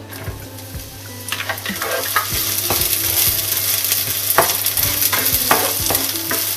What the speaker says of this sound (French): Quand l'huile est chaude, j'ajoute l'oignon.